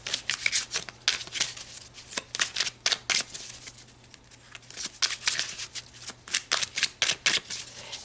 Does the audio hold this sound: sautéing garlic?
no